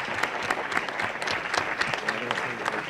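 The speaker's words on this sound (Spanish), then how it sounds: "corresponde darles un aplauso" Applause from a conference audience at the opening of a national Cervantes congress, close and steady individual claps filling the room, with a faint voice underneath.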